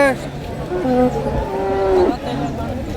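A single long, low cow moo rises and holds for about two seconds, close by, amid background murmur of a busy outdoor cattle market in Ranebennur, India.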